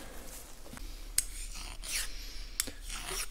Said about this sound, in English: So I'll take care of those burrs real quick.